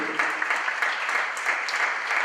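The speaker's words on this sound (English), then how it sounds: "so I'll clap for you as well." Applause fills a school board budget hearing, a steady, moderately distant patter of many hands clapping together for a couple of seconds.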